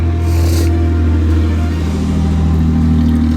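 A loud minivan drives close past, its engine a steady, heavy drone that swells and fades as it goes by, with no speech.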